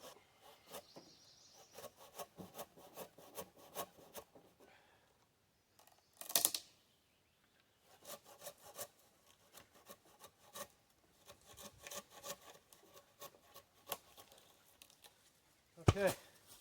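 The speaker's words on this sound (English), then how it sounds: "So I think I'm better off using this type of saw for this one." Hand saw cutting through a wooden log beam for a log gatehouse roof support, a steady run of rasping push-pull strokes up close, pausing briefly midway before resuming, ending with a sharp knock.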